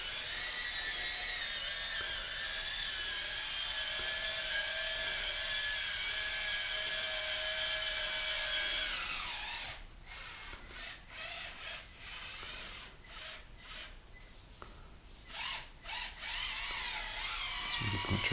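A Basher RockSta 1/24 RC crawler's small electric motor whines steadily and high for several seconds, then breaks into choppy bursts as the little truck stops and starts over an indoor course, with no talking.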